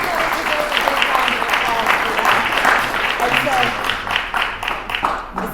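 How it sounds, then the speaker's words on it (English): Convention audience breaks into sustained applause, dense clapping filling the room steadily for several seconds, with a few voices mixed in among the crowd. "deserve a big round of applause for that"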